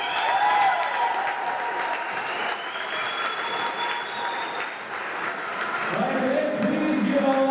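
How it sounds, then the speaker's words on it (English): At a high school basketball game, a crowd applauds a returning former student who now plays college football, sustained clapping that swells and holds for several seconds, with an announcer's amplified voice and crowd noise mixed in. "welcome back a round of applause for Thomas Meyer"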